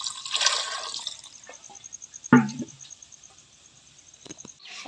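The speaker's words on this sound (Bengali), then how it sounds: "পানি ঢেলে দিলাম ধোয়ার জন্য" Water is poured over cut vegetables to wash them, making a short splash and trickle with a dripping patter under faint background noise.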